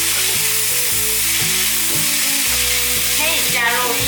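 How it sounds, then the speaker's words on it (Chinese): Cabbage, bamboo shoot strips, bell pepper and softened mushrooms stir-fried quickly in a wok, with loud continuous sizzling and rhythmic scraping of a spatula tossing the vegetables. "快速的翻炒"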